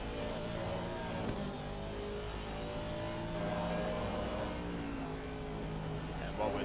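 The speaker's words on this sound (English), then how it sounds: "This has to be the best sounding GT3 car out there at the moment." An Aston Martin GT3 race car in a sim racing game at Barcelona drones steadily in onboard engine sound, shifting up and down through the gears at high revs, fairly loud, with a commentator speaking over it at times.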